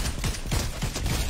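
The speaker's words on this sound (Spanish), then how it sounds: "Hay más disparos por acá" Rapid bursts of gunfire in the video game Fortnite crack out in a quick rhythmic volley of roughly half a dozen shots within a second or so, fairly close and punchy.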